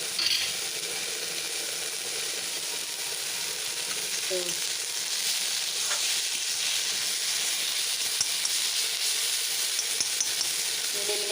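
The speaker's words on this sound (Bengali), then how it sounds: "শাকটা এখন দম বাড়িয়ে ভাজতে হবে" Lote shak, home-grown leafy greens, frying in a pan with a steady, close sizzling hiss that runs unbroken throughout, with a brief spoken word near the end.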